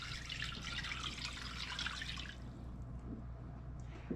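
Water is poured into a cooking pot for Filipino beef pares, a steady splashing rush for about two seconds that then drops to faint drips and trickles.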